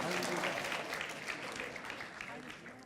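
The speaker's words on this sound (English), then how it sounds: "They're all going to clap for you." Audience applause fills a TEDx talk at the JFK Memorial Library, a steady dense clapping from a full room that stays loud throughout and fades slightly toward the end.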